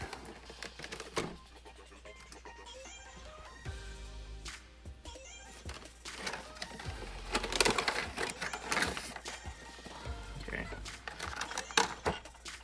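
Opening the packaging of an Adaptive Tactical tactical light forend for Mossberg and Remington 12 gauge shotguns, with intermittent close crinkling, rustling and soft thumps over a steady background.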